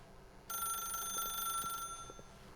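A telephone rings in The Stanley Parable video game, a bright electronic trill that starts suddenly and sounds for over a second over a quiet background hum, with faint clicks.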